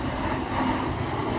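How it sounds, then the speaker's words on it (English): An airplane passes overhead on its approach to land at a nearby airport, a loud, steady engine roar that fills the whole clip during an outdoor morning walk with no talking. "See, that's the plane going."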